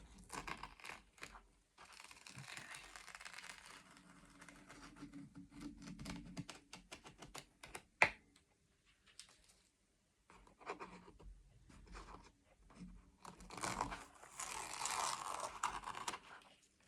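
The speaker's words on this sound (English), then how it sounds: "I just couldn't wait to get this tape off." Masking tape slowly peeled off a painting, long rasping, crackling tears in several stretches with quiet gaps and one sharp snap near the middle, close and fairly soft.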